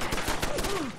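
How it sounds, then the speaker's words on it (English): Brief burst of rapid gunfire in the video game Fallout 4, several quick shots with a descending whine sweeping underneath, loud and close throughout the short moment. "What's he shooting?"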